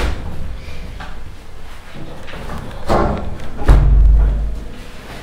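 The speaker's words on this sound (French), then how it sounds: "Il y a une balle de golf qui est tombée." Inside an abandoned church, a golf ball drops to the floor, giving a dull low thud or two against a quiet, roomy background.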